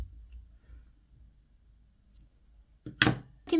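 Scissors snip excess yarn from a knitted fingerless glove, a couple of quick, close, crisp cuts arriving near the end after a quiet stretch.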